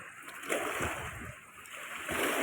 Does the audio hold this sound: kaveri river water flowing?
yes